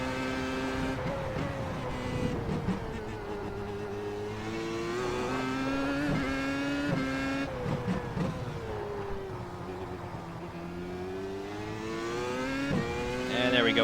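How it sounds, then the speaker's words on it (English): A Williams FW31 Formula One car's engine revs high and shifts repeatedly in a racing video game, the pitch climbing and dropping through gear changes out of a chicane, loud and continuous under a commentator's voice. "Careful with the throttle application, short shifting a little bit there through the middle of the chicane."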